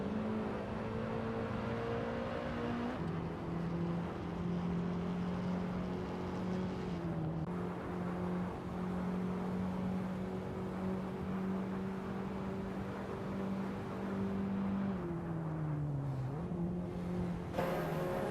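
Race cars, one of them a Mitsubishi, run in a racing video game with a steady engine whine that shifts pitch through gear changes and steps up and down, loud and continuous with no voices.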